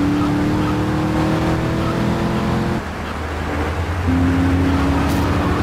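A car in GTA 3 driving toward a checkpoint, its engine droning loudly with a steady tone that drops when it shifts gear, then climbs again as it revs back up.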